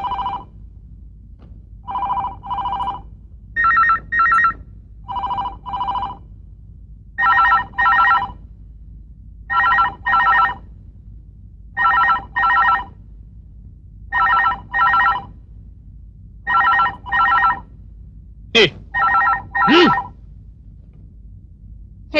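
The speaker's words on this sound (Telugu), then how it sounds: "ఫోన్ తీ." An old landline telephone rings in repeated double bursts, loud and close, each pair of rings separated by short silences, continuing steadily for over twenty seconds with no talk over it.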